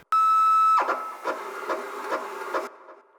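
The Odyssey machine initializes with a loud, steady harmonic buzz that breaks into a run of rhythmic mechanical pulses about every half second, then cuts off abruptly.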